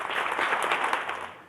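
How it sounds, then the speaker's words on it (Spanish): Church congregation clapping, a burst of many hands that swells and then fades over a second and a half, with no speech on top. "Dale un aplauso a Dios por eso."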